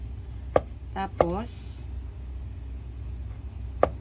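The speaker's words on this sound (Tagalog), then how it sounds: "Ito na lang patatas yung hinihiwa-hiwa ko." A knife slicing potatoes for potato salad on a cutting board, giving a few sharp, separate chops close by, with a voice talking briefly between them.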